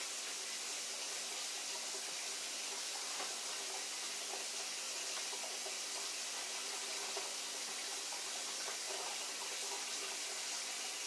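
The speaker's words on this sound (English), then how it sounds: "I generally run water on the vegetables for about 2 minutes." Kitchen tap water runs over vegetables in a steady, close, broadband splashing hiss that holds without a break, no voices.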